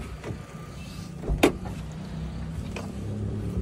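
A car's engine idles steadily after being started by an electrician-mechanic on a roadside breakdown, a low continuous rumble with a brief sharp clunk midway, near and without talk.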